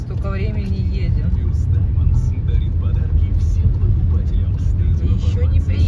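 A car drives through the city of Syktyvkar in the Komi Republic, its engine and road noise a loud, steady in-cabin rumble, with voices talking over it.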